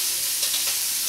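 A pot of seafood soup at a boil gives a steady close hiss with faint bubbling, brief and unbroken.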